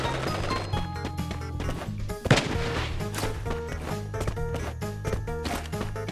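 Shotgun fire in a first-person shooter video game, with a loud, sharp blast standing out midway over busy game music and effects.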